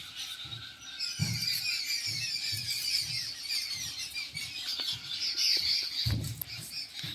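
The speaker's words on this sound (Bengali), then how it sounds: "পাখির আওয়াজটা শুনছো তোমরা বন্ধুরা?" Dense chorus of high birds chirping and squealing nonstop in a village, many calls overlapping, with occasional low thumps in the background.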